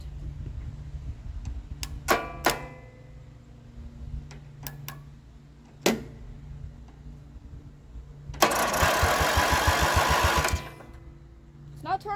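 Riding lawn mower engine cranking sluggishly after its solenoid is jumped, a few short bursts followed by a longer, louder two-second crank that does not catch, with brief remarks spoken between attempts.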